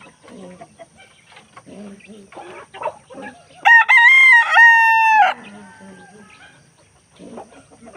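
Pet chickens cluck softly and peck while feeding, then a rooster lets out one loud, close crow lasting nearly two seconds, with scattered clucking resuming afterward.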